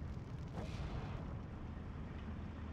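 Artillery fire in the strategy game Endless War: a deep, rumbling boom from the battlefield that swells and decays into a dense, continuous low roar, loud and steady throughout with no voices.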